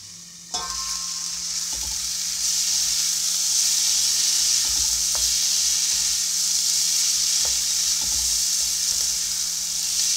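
Pumpkin stems and leaves cook in a covered pan over medium heat for a Bengali chickpea-fritter curry, giving a steady close sizzle and hiss that swells after a sharp start and runs on evenly, with faint clicks.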